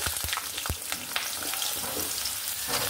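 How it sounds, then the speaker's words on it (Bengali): Potatoes dropped into hot oil alongside ridge gourd crackle and sizzle loudly and close, with several sharp spoon knocks at the start and a dense bubbling hiss after. "এই যে আমি আলুটাকে দিয়ে দিলাম তেলের মধ্যে।"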